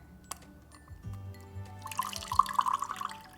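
A makeup sponge is dipped into water, giving soft splashes and light trickling and dripping sounds, close by, with small knocks and handling noises at the start.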